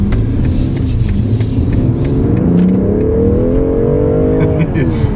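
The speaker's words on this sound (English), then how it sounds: "The 6-cylinder sounds great." A 2021 BMW M440i with a six-cylinder engine accelerating hard: a loud, steady engine drone from inside the car, its pitch climbing smoothly throughout, with no one speaking.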